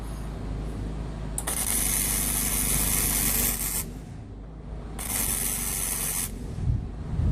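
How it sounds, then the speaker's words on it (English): Arc welding a steel strut onto a flat steel plate gives two long, steady crackling hisses with a short pause between them, loud and close. "I line up the strut for welding."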